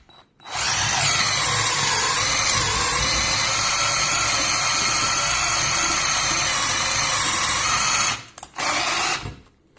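A Parkside cordless drill bores a hole with a steady, loud, close whine that runs unbroken for about eight seconds and then stops in a few short stutters.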